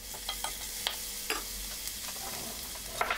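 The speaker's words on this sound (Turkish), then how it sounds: "Bu şekilde soğanları kavuruyorum." Onions with salt and sugar sizzle and crackle in a hot pan, with occasional scraping and stirring clicks over a steady frying hiss.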